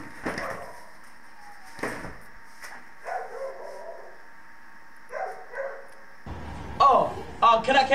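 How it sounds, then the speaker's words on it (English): A dog barks in short bursts between stretches of people talking, the loudest sharp barks coming near the end over some background noise. "Why the fuck is this dog barking?"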